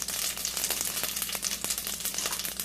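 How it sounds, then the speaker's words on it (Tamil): Mustard and fennel seeds sizzle in hot oil in a pan while cooking egg rice, a close, steady crackling fry with dense popping and spitting throughout, with no voices. "இப்போ நான் இங்க எண்ணெய் காய வச்சிட்டேன். இது முதல்ல கடுகு தாளிச்சுக்கலாம்."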